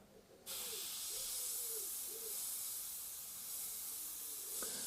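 A T3 Grafo airbrush sprays paint at 20 PSI, giving a steady, close, continuous hiss that starts abruptly and holds for several seconds, with no talking.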